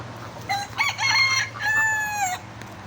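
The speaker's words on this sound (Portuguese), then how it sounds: "Ó, tudo ali as galinhas." A rooster crows nearby, a clear drawn-out call repeated twice, over a quiet background hum.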